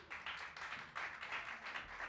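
Applause from a live bar audience for the performers at a music night, a steady wash of clapping that swells and dips over about two seconds, fairly distant and without talk.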